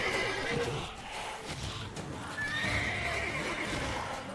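Roach, the horse in The Witcher 3: Wild Hunt, gives a clear whinny and snorts, with hoof clip-clops and game ambience underneath, at moderate volume.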